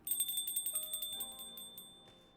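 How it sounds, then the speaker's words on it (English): A stream alert bell chimes over and over in quick succession, a fast run of bright, faint rings that overlap and slowly die away, with no talk. "I never considered how the bell would sound with so many things getting thrown out at once."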